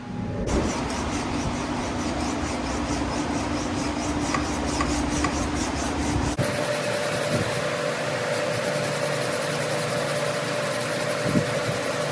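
Steady abrasive rubbing as a knife blade is hand sanded, a continuous rasping scrape with a low mechanical hum underneath, close and fairly loud throughout.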